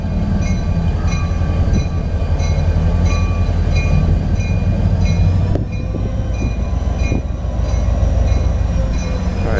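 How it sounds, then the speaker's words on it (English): A CSX tie train rolls slowly past, loud and close, with a continuous heavy rumble, repeating wheel clicks and a high squeal from the wheels. A brief clunk comes about halfway through. "that train's already on the tracks"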